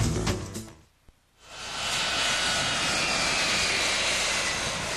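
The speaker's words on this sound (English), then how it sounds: "Here, a group of F-15 Eagles take pictures of the Soviet bomber." A Soviet Tupolev Tu-95 Bear bomber flies with American F-15 Eagle fighter escorts, a loud, steady roar of aircraft engines that dips briefly and then swells into a sustained, hissing drone.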